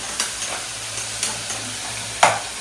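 Onions and tomatoes sauté in oil, a gentle sizzle punctuated by rhythmic spatula scrapes about once a second, the last stroke louder and closer.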